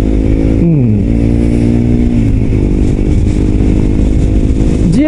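Suzuki GSX-R125 motorcycle engine running steadily while riding, loud and close, with a droning tone that dips and rises slightly as the rider shifts and changes throttle.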